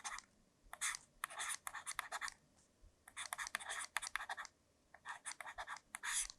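Chalk or marker writing out maths working on a board during a Class 12 lesson, heard as bursts of scratchy strokes in several runs with short pauses, close and fairly loud, no talking.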